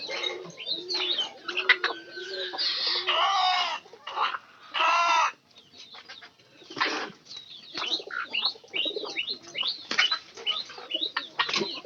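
A hen and her five chicks, with a rooster kept nearby: close, clucking and cooing calls in irregular bursts, several sustained squawks, and rapid chick peeps scattered between, with no talking.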